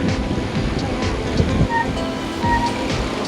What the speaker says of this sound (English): There's like a waterfall.